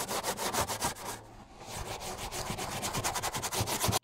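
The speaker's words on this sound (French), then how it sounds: "je prends la brosse à jantes parce que faut frotter un peu quand même" A stiff wheel brush scrubs a plastic car wheel arch coated with citrus tar remover, giving steady rhythmic rubbing strokes up close with a brief pause midway.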